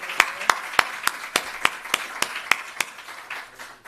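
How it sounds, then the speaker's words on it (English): An audience at a South African rural investment summit claps in a sparse, even rhythm, with single sharp claps about three per second standing out over a faint background. "Let's give them a big round of applause."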